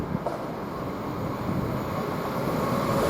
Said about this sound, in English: there is another train coming the other way, so I do believe it's going to Newcastle